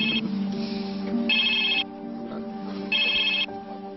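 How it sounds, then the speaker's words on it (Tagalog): A telephone rings while a call is being placed, giving two steady electronic ringback bursts separated by pauses, clear and close with no talking over it. "Mabuti tawagan mo muna si Jake"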